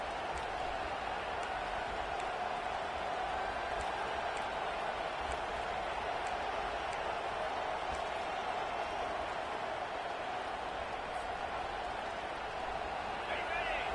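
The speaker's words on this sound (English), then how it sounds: "Decibels rising as the crowd gets behind this defense on third down" A football stadium crowd at an Ole Miss game roars on third down, a dense, steady wash of noise that holds at an even level throughout with no breaks.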